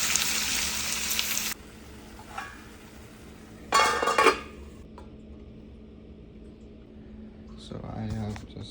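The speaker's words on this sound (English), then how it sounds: "Frying the chicken." Chicken frying in a pan in a home kitchen, with a loud sizzle at the start, a brief clatter of pan or utensil partway through, and quieter background sizzle between short bursts of talk.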